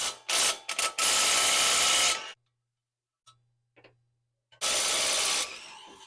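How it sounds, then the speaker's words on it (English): Loose, gritty rubbing and ratcheting bursts from working a 19 mm brake caliper bolt on a 2005-or-later second-generation Nissan Xterra, two long close bouts separated by near silence with a couple of faint clicks. "We're going to get this caliper off by removing that and that bolt."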